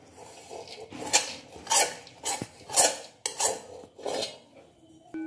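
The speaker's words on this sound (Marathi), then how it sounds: "हे बघा आपण खोबरं खारीक घातलं, मी हलवते चांगलं हे सगळं" Grated coconut and chopped dry dates are stirred in a pan with a utensil, producing a handful of rhythmic scraping sweeps with metallic clinks against the pan, close and clear with no speech.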